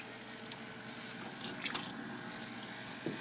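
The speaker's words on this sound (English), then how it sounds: "Pouring it back into the tank a little bit." Water pours back into a tilapia breeding tank, a continuous wash of splashing with a few brighter drips and trickles, close and steady, and no one speaks.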